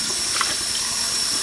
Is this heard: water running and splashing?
yes